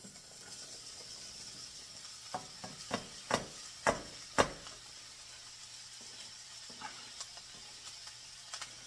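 Chopped vegetables, onion among them, dumped all at once into a hot pan for a vegetable stir fry, giving a burst of clattering hits and sizzle that settles into a steady quiet frying hiss with occasional pops.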